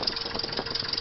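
A small aircraft piston engine idles just after being started with a McDowell starter, giving a steady, lumpy rumble of even firing pulses at close range with no talking.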